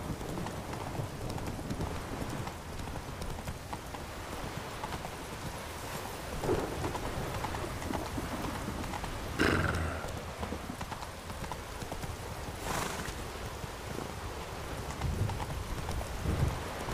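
Hooves of Roach, Geralt's horse in The Witcher 3: Wild Hunt, clip-clopping steadily at a fast pace through rain, with thunder rumbling and a downpour hissing under the rhythmic hoofbeats.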